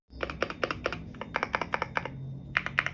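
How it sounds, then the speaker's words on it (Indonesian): Brisk bursts of typing on a CIDOO V75 mechanical keyboard, crisp clacky keystrokes in quick runs with short pauses, close and fairly loud with no talking. "mari kita coba langsung tes mengetik menggunakan Zidu V75"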